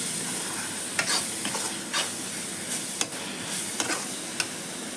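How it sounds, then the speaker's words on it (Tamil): Ingredients for a Tamil crab gravy sautéed in a pan, a steady crackling sizzle punctuated by regular spatula scrapes and several sharp metallic taps against the pan, close by. "நல்லா வதக்கிக்கலாம்"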